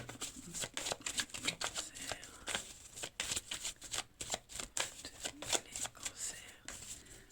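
Tarot cards shuffled by hand in a quiet room, a rapid run of soft crisp flicks and riffles with irregular pauses, close and fairly faint.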